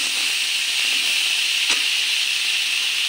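Cauliflower, potato and tomato sizzle in a pan with tempering spices, a steady, even hiss throughout with one brief click midway and no talking.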